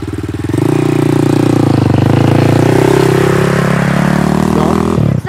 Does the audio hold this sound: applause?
no